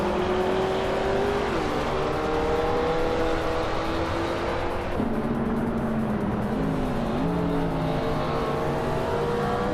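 Race cars roaring around a track in a car racing video game, a continuous loud engine drone with pitch rising and dropping as gears shift, several engines overlapping closely, with no talk.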